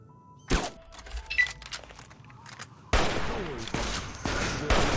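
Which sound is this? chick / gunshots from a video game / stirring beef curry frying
gunshots from a video game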